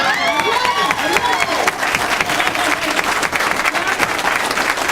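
An audience in a meeting hall bursts into loud, dense clapping with some cheering and a few shouted voices mixed in, the applause sharp and sustained throughout.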